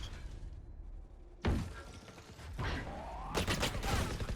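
Gunfire in the tactical shooter Valorant, with a sudden sharp burst followed by several more shots and clattering impacts, loud and close amid game noise.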